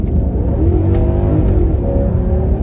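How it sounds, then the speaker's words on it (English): A 2007 Maserati Quattroporte with a ZF six-speed automatic revs its engine hard, a loud, steady, throaty roar heard up close from inside the car that holds for a few seconds with rising harmonic tones. "we'll have to give it a little gas here"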